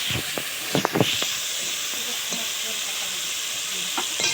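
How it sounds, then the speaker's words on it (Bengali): Okra frying in a pan gives a steady, close sizzling hiss with a few clattering stirs near the start and scattered later, with no talk. "এটা ভিন্ডি ভাজা হচ্ছে"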